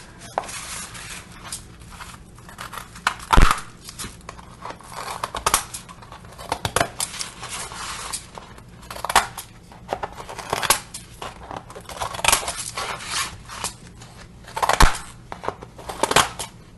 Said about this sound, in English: use my decorative scissors so that I can go back and distress and it'll make it easier.